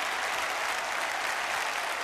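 Thunderous, sustained applause from a large audience greeting finalists at a Jeet Kune Do tournament in a kung fu movie, a dense unbroken wash of clapping with no speech.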